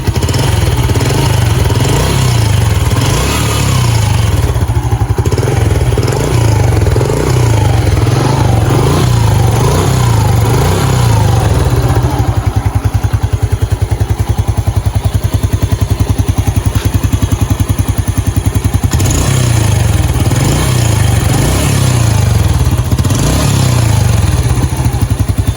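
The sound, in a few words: Yamaha Jupiter Z1 motorcycle engine revving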